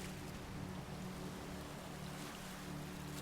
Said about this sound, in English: The sound of the waves lapping on the shore continues.